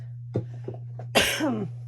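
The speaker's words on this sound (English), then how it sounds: "I coughed into your ear." A single close, sharp cough at a crafting desk, preceded by a few soft throat sounds and breaths, heard alone against a steady low electrical hum.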